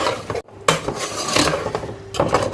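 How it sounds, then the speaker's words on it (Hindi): Masala with mutton trotters fries in a pot, heard as irregular scraping and clanking of a metal spoon against the pot with faint sizzling underneath, close and fairly loud. "ये हम मसाला इसका भून रहे हैं।"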